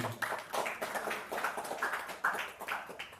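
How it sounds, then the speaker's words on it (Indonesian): Scattered, fairly faint hand claps ring out for the association chairman at a members' working meeting, a sparse, uneven patter from a small group rather than a full ovation. "Tepuk tangan untuk Pak Ketum."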